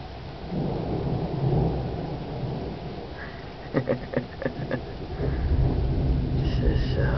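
Thunder rumbles through a lightning storm with rain falling, a few sharp crackling bursts in the middle against a steady low wash of rain and distant rolling.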